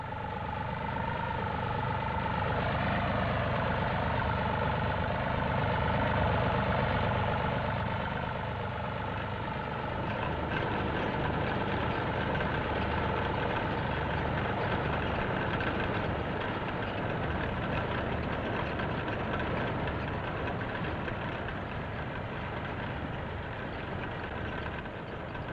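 A 90-horsepower four-wheel drive tractor engine gives a steady, loud drone throughout, with a low rumble and a faint tonal hum that fades partway through; no talking.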